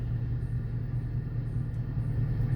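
A 2021 Dodge Challenger R/T idles in its 4-cylinder fuel-saving mode, giving a steady low, droning engine rumble without revving, heard close and continuous throughout.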